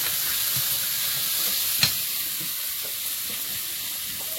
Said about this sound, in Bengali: মশলাটাকে এবার একটু কষিয়ে নেবো।